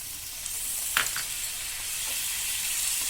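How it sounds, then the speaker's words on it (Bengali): Water poured into a sizzling frying pan for a Bengali bata fish curry, giving a steady close hiss of frying with a brief louder burst near the start, no voices. "বাটি ধোয়া জল দিলাম"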